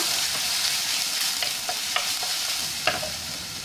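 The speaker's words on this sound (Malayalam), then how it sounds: "നമുക്ക് അരച്ചു വെച്ചിരിക്കുന്ന ഇഞ്ചിയും വെളുത്തുള്ളിയും പച്ചമുളകും ചെറിയ ഉള്ളിയുടെയും കൂടെ അരപ്പെടുത്ത് ചേർത്ത് കൊടുക്കുക." A ground paste of ginger, garlic, green chili and shallots fries in a pan with a steady, close sizzle. Occasional light scraping and tapping from stirring are heard, and no one talks.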